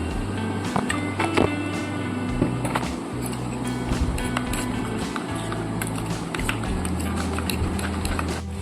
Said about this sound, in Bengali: এর মধ্যে সামান্য একটু জল দিয়ে ফেটিয়ে নেব